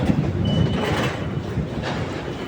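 A train rumbles through a station with a steady low roar and a brief faint wheel squeal, loud and continuous with no talk.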